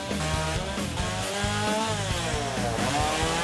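A chainsaw carves a wooden bear, bevelling the arms down from the base of the neck; the saw runs steadily and loud up close with a continuous buzzing whine that shifts in pitch as it cuts, no talking.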